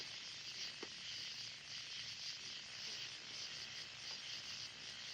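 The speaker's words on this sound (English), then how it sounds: "I figured I'd let you guys just sit here and listen to all the crickets." Crickets chirp steadily at night outdoors, a faint, continuous high trill with no voices.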